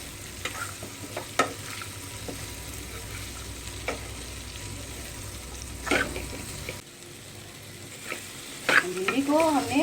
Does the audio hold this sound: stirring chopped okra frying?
yes